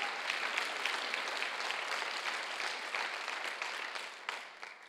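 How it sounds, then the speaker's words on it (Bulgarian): An audience claps steadily throughout at a church sermon, a dense, sustained wash of applause that thins slightly toward the end. "О да, може да ръкопляскай за това."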